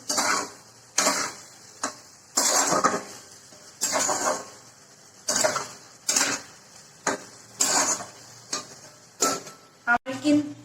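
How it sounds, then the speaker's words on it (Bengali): Boiled eggs stirred into a simmering egg curry with potatoes in a pot, giving repeated scraping and clinking strokes of a utensil against metal in uneven bursts, with someone talking between them. "ডিমগুলো দিয়ে একটু ভালো করে নেড়ে চেড়ে"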